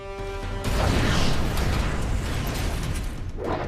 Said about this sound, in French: En mode explosion, la première charge perce un trou dans les murs. Et la deuxième explose dans le bâtiment.